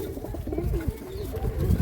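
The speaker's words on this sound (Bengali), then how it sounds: "আর কিছু চেন্নাই লাইনের পায়রা আছে" Pigeons coo softly and repeatedly in a loft, low rolling calls close by from male pigeons including Lambadi and Chennai-line birds, with a faint room hum underneath and no voices.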